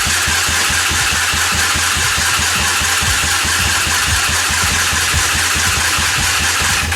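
A small engine, battery just recharged, cranks over and over without catching, a loud, close, rapidly pulsing starter churn that stays even and unbroken throughout.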